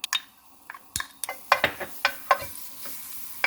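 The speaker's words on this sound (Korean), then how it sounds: "마늘 2스푼을 볶아줍니다." Two spoonfuls of garlic stir-fry in a little oil in a tilted frying pan over lowered heat. The sizzle stays soft, broken by sharp spatula scrapes and taps on the pan, and nobody speaks.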